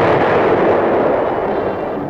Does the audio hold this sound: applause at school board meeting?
no